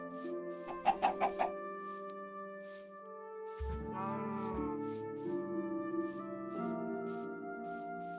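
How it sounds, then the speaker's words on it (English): A Minecraft chicken clucks in a quick cluster of short clucks, then gives a longer call, over a steady game music background. "Kiko says hunting chicken."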